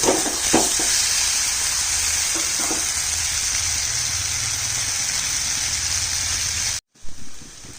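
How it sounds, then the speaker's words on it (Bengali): Taro stolons and fried prawns are gently stirred in a sizzling pan, giving a constant bright frying hiss with a few soft scraping strokes, followed by a brief dropout and a louder clatter near the end. "ধীরে ধীরে নাড়তে হবে, নাহলে সব কচুরলতিগুলো একদম গলে যাবে"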